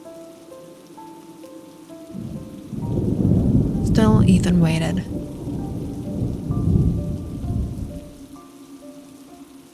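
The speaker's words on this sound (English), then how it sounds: "Then the rain became heavier." Heavy rain pours steadily while deep thunder rolls through the middle, with soft music underneath and a narrator speaking briefly over the storm.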